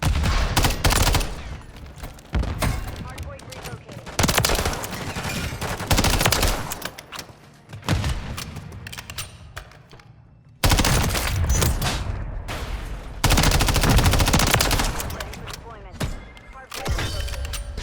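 Rapid automatic gunfire in a Modern Warfare 3 multiplayer gunfight, MTZ 556 rifle bursts in loud, dense volleys separated by brief pauses, with a player's voice talking over parts of it.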